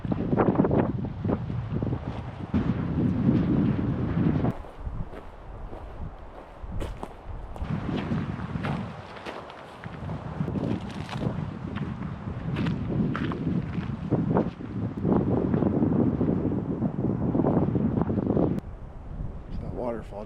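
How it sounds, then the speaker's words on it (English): Wind gusting across the shore of Yosemite's remote Lake Eleanor, a steady low roar that swells and eases, with buffeting on the microphone, footsteps and a voice speaking over it. "This wind dies down just a little bit more"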